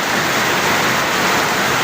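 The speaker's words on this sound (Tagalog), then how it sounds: "Pinapanood tong ulan na to" Monsoon rain falls in the Zambales area near the sea, a steady broadband hiss of downpour that holds constant and unbroken throughout, with no talking.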